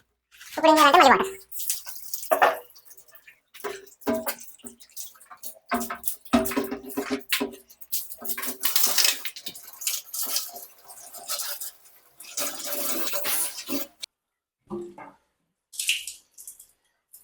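Water splashes and gurgles into an arowana aquarium tank in uneven bursts with pauses and drips, close by, while someone talks at intervals.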